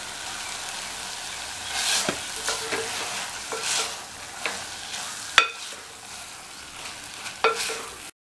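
Idiyappam string hoppers stirred into tomato masala in a pan over a low flame: intermittent spatula scrapes and soft clatters over a quiet, steady sizzle, with no voices.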